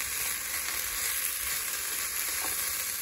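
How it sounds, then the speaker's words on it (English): Food and vegetable stock sizzle and fry steadily in a Ridgemonkey pan while being stirred for a Moroccan-inspired dish, a close, continuous crackling hiss with soft scraping and no talk. "Right, I'll stir this bit."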